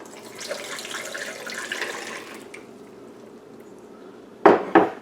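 Water from a tap pours steadily into a pot holding washed yams and sweet potatoes, a continuous splashing stream for a couple of seconds, followed by two sharp clanks of the pot near the end.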